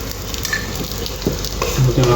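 Paratha frying in oil in a pan, a close, loud, continuous sizzle with stirring scrapes and small crackles throughout.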